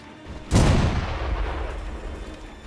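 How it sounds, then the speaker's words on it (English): A shotgun blast fires in the video game Sekiro, one loud sudden boom that decays into a long rumbling tail. "dude's shooting a shotgun"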